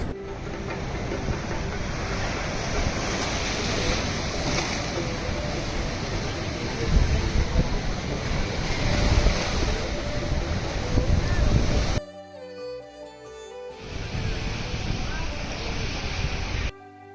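Sea waves and wind at Kanyakumari, the point where three seas meet, roar as a steady broadband wash with wind buffeting the microphone, briefly interrupted by a quieter cut before the surf returns.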